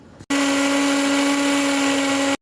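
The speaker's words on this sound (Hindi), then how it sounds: "प्याज को मैंने ग्राइंड कर लिया है।" A mixer grinder jar blitzes onions in one continuous loud whirring burst after a brief quiet start, motor whine holding steady for about two seconds before cutting off abruptly.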